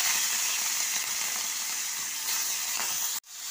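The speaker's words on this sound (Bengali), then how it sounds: "চিংড়িগুলোকে আমি খুব হালকা করে ভেজে নেব।" Salted, turmeric-rubbed prawns fry lightly in hot oil in a wok, giving a steady, close hiss of sizzling that cuts off abruptly near the end.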